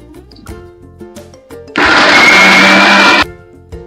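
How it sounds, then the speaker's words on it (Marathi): A kitchen mixer grinder whirs loud and steady for just over a second, grinding cumin, coconut, coriander, ginger and garlic into paste, then stops abruptly, with background music before and after. "बारीक करून घेते मिक्सरला मी।"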